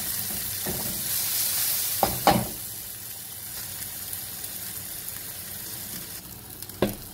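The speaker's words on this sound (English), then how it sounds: "now we're gonna put the garlic in the same pan. Then we'll cook a bit of the garlic." Garlic frying in the same pan used for Filipino-style pork belly, a steady close sizzle with a few sharp clinks of a utensil against the pan.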